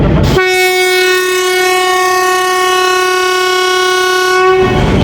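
Long, loud, steady whistle from the train at a railway station as the Hazara Express departs, holding for about four seconds and then cutting off, heard close with no talking.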